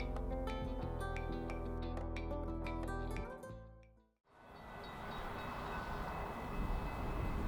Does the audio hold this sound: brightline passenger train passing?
yes